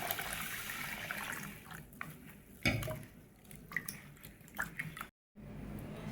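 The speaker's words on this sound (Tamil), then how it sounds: "இதை நல்லா தண்ணி ஊற்றி கழுவிக்கலாம்" Parboiled rice is rinsed in water, splashing and swishing in a container, with soft drips and gritty stirring sounds, one brief gap of silence near the end.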